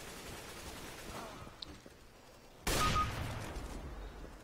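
A single loud gunshot rings out in Counter-Strike GO after a quiet stretch of faint game ambience, with a sharp onset and a decaying tail.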